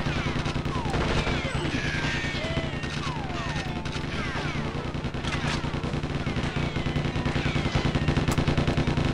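Enemy gunfire in the Nintendo 64 shooter GoldenEye 64: loud, dense automatic fire that rattles on without a break for the whole stretch, with sharp reports layered over one another.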